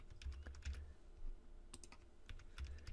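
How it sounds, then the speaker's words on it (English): Quiet typing on a computer keyboard, a quick irregular run of soft key clicks with low thumps between them, close by. "so we're going to go ahead and type that in"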